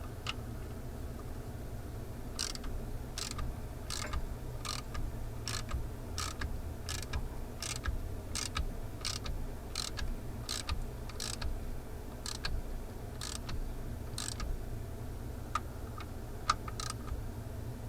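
Engine bolts being tightened with a ratchet, giving a steady run of sharp, evenly spaced clicks close by over a low background hum.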